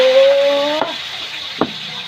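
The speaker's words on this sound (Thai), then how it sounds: "กระทะร้อนแล้ว เดี๋ยวนี้ก็จะเอาหมูใส่กระทะแล้วนะคะ" A steady hiss of pork frying in a hot pan, with a couple of sharp utensil knocks against the metal, close up with no talking.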